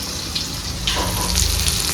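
Tap water runs steadily into a kitchen sink as dishes are scrubbed, a continuous broadband rush with no voices.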